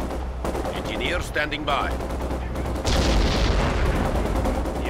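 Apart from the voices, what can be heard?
gunfire in Company of Heroes 2 video game battle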